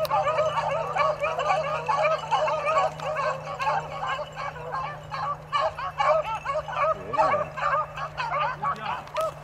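Beagles bay and yip in a dense, overlapping chorus during a rabbit hunt on a ranch, the calls continuous and fairly close throughout with a steady low hum beneath.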